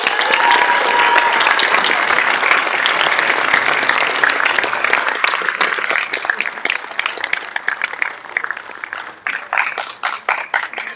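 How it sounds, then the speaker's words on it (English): A general assembly audience at a council meeting breaks into sustained applause, dense and loud at first. It thins into scattered individual claps toward the end. "So one more round of applause for the last leaders."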